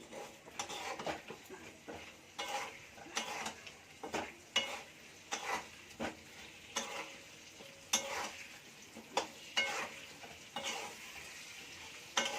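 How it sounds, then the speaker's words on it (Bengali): Potatoes frying in a pan until reddish-brown, with a steady background sizzle broken by repeated, fairly regular spatula scrapes and knocks against the metal, heard up close without talk. "আলুটা ভেজে নিয়েছি, লাল লাল করে ভাজা হয়ে গেছে"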